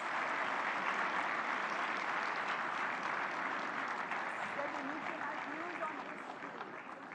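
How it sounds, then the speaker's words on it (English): Applause from a large audience at a summit in Bharat Mandapam greets the arriving Prime Minister, dense sustained clapping filling the hall and fading slightly toward the end, with a voice speaking over it. "Let's have a big round of applause."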